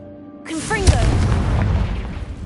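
A Confringo fire spell goes off in Hogwarts Legacy as one deep booming blast with a rumbling tail, loud and close, followed by a short burst of crackling, rolling debris.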